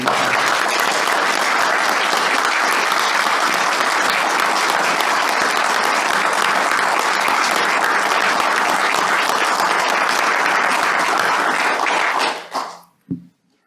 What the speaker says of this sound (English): shall we applaud the speaker?